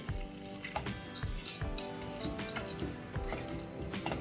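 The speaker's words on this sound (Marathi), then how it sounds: "त्याच मिक्सरमध्ये मी थोडंसं पाणी टाकून तेच पाणी मी इथे वापरणार आहे." Water rinsed from a mixer jar poured into a simmering fresh cashew curry in Malvani style, soft splashing and dripping with bubbling sizzle underneath, fairly quiet and close.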